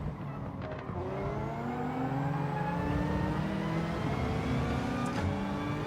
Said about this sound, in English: Oh, I hit the bloody limiter again.